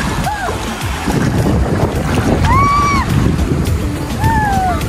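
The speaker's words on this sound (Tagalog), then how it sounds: "Ang lakas ng agos, ng alon." Strong waves and churning current at Talaan Beach in Sariaya, a loud continuous wash of surf mixed with heavy wind buffeting the microphone close up, with a few short voiced whoops or calls over it.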